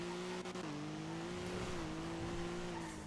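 The Sigma sports car in a driving video game holds a steady, sustained engine tone with slight pitch shifts as it accelerates.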